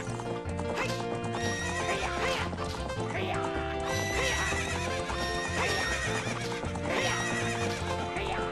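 Galloping horse hooves and neighing during a horse race in the video game The Legend of Zelda: Ocarina of Time, playing steadily under loud continuous game music.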